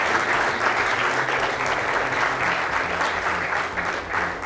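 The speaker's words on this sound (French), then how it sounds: "Applaudissez pour vous-même." An audience at a public talk in Kinshasa applauds steadily and loudly for several seconds, a dense wash of many hands clapping with a faint low hum underneath and no voices over it.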